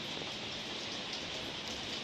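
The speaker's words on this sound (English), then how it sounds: "I guess a few drops of rain won't bite me." Steady rain falls outdoors near a garden house, a soft, even wash of hiss with no breaks, faint and fairly distant.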